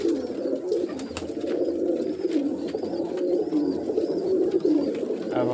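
Several pigeons coo together close by in low, rolling, overlapping calls that run steadily throughout, with faint background noise.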